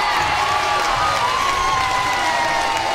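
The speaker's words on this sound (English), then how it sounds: "You could hear the crowd get behind her as she took the field" Crowd noise rises from the stands at a 2019 NCAA Division I softball regional game between Florida State and South Carolina as the pitcher returns to the field, a steady, dense wash of cheering and shouting that holds throughout.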